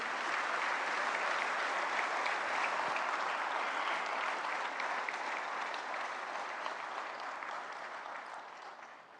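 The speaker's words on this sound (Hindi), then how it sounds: "तालियों की गड़गड़ाहट रुकनी नहीं चाहिए।" Sustained, dense applause from a large audience at a government ceremony in India where incentive funds are distributed. It is loud and steady and tapers slightly toward the end, with no voices over it.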